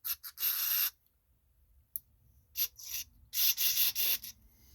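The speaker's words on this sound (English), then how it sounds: "Just want to spray it out real good and make sure you get everything out of there that's in the jets" Several sharp hissing spray bursts of carburetor cleaner into the carburetor jets of a Kawasaki engine on a Toro stump grinder, short and long blasts separated by quiet gaps, close by.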